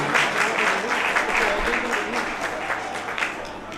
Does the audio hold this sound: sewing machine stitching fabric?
no